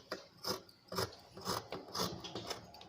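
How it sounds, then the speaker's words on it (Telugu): Scissors cut through extra blouse fabric in a series of crisp, rasping snips, roughly every half second, close and fairly quiet, with no talking. "ఇప్పుడు ఎక్స్ట్రా క్లాత్ని కట్ చేసి మీకు జాయిన్ చేసి చూపిస్తాను"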